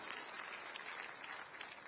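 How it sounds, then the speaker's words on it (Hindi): A seated audience at a community foundation ceremony applauds in honour of a revered guru, a steady, even wash of many hands clapping, heard faint and distant throughout. "एक बार मैं चाहूंगी आदरणीय गुरु जी के लिए भी आप जोरदार तालियां बजाएं।"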